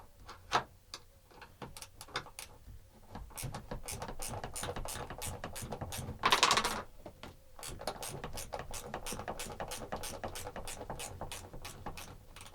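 A ratchet wrench undoing 10mm bolts on brackets inside a Mercedes 814D van, rapid repeated clicking in bursts with a brief louder rasp midway, close and clear.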